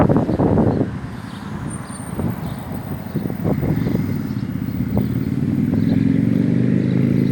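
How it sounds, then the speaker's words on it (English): A motorcycle passing on a street, its engine rumble swelling and growing louder and closer over several seconds, with clattering traffic noise and no talking. "Look, a motorcycle now to make noise."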